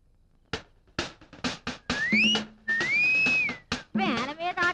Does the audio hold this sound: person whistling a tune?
yes